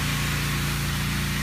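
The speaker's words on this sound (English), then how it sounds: "They're pressure washing the driveway next door" A pressure washer cleaning a driveway next door on a residential street gives a constant, dense hiss and motor drone, steady and fairly loud throughout the short stretch.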